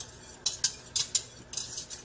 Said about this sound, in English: Now we need to whisk it all together.